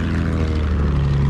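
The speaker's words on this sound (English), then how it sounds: "Can you come pick me up in the plane?" Steady, loud droning of a propeller plane engine in Battlefield 1, a continuous low hum with no pauses or talk.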